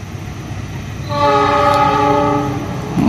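The KA Cikuray passenger train from Garut to Pasar Senen sounds its horn while crossing the Cimanuk bridge at Leuwigoong, a loud sustained multi-tone blast rising over low rumbling rail noise, with no talking.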